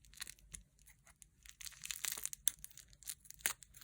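Packaging around a crystal druzy delivery being snipped and torn open, with quiet intermittent crinkling, tearing and crunching bursts close by and a couple of sharper snips.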